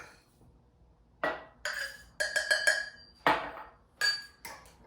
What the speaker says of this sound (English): It's a 1/4 cup of oats. So you'll put that in each jar.